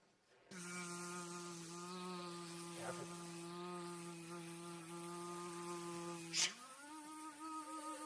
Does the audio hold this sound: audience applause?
no